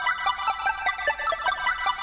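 Twinkly synth chime patch run through an offset stereo delay, its rapid bell-like notes smearing into a dense shimmering wash of echoes, steady and alone with no voices.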